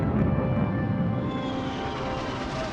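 Steady broad roar of an aircraft passing overhead, constant and fairly loud throughout, with a faint whine riding on top.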